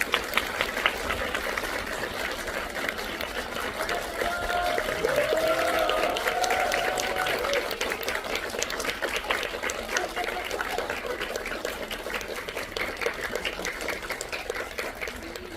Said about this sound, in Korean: 큰 박수로 세 분의 게스트를 맞이해주세요.